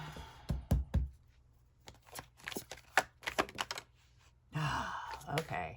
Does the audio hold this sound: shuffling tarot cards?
yes